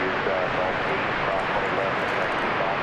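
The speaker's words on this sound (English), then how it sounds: "This will be American Flight 1220, 737-800." An American Airlines Boeing 737-800 at DFW Airport gives off a steady, broad jet roar that stays constant, with a voice talking over it.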